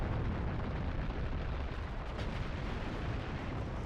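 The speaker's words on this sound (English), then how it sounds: "Taking artillery." Continuous heavy artillery fire and explosions in the mech video game Steel Battalion: Heavy Armor, a dense, loud rumbling barrage with no gaps throughout.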